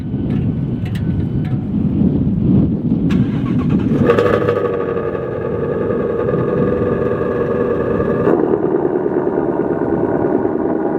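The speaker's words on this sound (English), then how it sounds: "We're gonna go ahead and turn that Shelby on now." A 2018 Ford Mustang Shelby GT350 engine with active exhaust cranks and catches around four seconds in, then settles into a loud, steady rumble with a shift in tone near the end.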